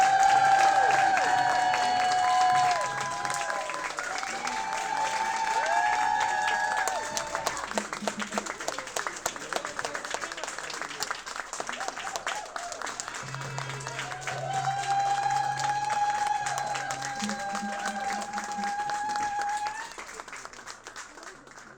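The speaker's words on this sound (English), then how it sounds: "Please join me in giving our graduates a final round of applause." Audience applause at a Stanford DAAAS graduation ceremony for the 2026 graduates, steady sustained clapping from a large crowd heard alongside music with a sung melody, lasting throughout with a slight dip partway.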